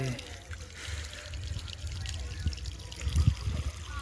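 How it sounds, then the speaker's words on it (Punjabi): Water pours and trickles onto a concrete roof slab on a farm, a steady low splashing wash with a few louder gushes near the end, faint voices in the background. "ਪਾਉਣੇ ਆ ਪਾਣੀ ਭਰਦੇ ਆ ਇਹਨੂੰ"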